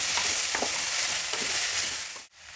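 Byadagi chillies frying in a pan for chutney, stirred with a utensil: a steady close sizzle with repeated scraping strokes, briefly dropping out near the end.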